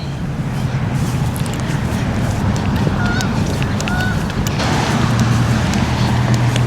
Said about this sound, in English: you can still hear a lot of the traffic that's going on right now